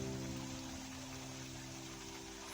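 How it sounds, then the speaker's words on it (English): Onion pakodas fry in hot oil, a steady, dense sizzle and crackle like light rain, continuous and fairly quiet with a low steady hum beneath and no talking. "Fry the pakodas till golden brown."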